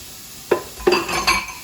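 Metal pans clatter on a kitchen stove while shrimp pasta cooks, with three distinct clanks and scrapes in quick succession, fairly close and with no talking.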